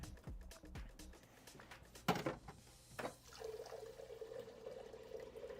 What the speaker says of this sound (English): I'm not peeing. I'm filling up my water